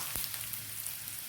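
Mustard seeds, grated coconut and curry leaves fry in hot oil while tempering for a pumpkin dal curry, producing a steady close-up sizzle with faint popping over a brief moment.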